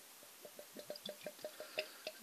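Yorkshire Dales Brewing Co. Campbells 1868 Ale, a 3.7% ale, glugs from the bottle into a glass in about a dozen quick, evenly spaced gurgles, soft and close with no talking.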